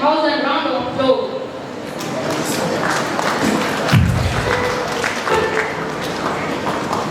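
Audience applause at an Aloysius Day skit and cultural program at Apostolic School, Gumla, a dense crowd clapping with thumps and murmurs that runs steadily through the whole stretch, a voice briefly audible near the start.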